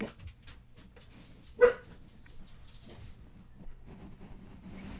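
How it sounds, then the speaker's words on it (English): A single dog bark rings out once in a quiet indoor room: one short, sharp yelp partway through, with only faint low rumble and small rustles around it. "my dog was barking"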